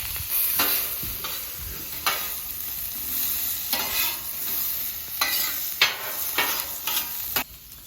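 Pork chops sizzling on a Camp Chef flat top griddle, a steady fry broken by repeated scraping strokes of a spatula stirring the meat, close and loud.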